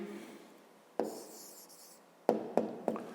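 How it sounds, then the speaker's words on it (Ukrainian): Pen or pencil strokes writing a short answer on paper during a Ukrainian 5th-grade math exercise, a few quiet scratchy marks followed by three sharper taps, close and soft, with no talking. "Записуємо тоді відповідь"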